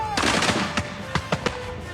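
A film-set musket volley for The Last of the Mohicans, with a ragged burst of overlapping black-powder shots followed by three or four separate loud reports, sharp and close.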